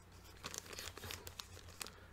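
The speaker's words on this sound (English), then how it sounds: "these plastic bags, man" Plastic bags from a tabletop-game subscription crate crinkle and rustle as someone fumbles to open them, quiet irregular crackles close by with no talking.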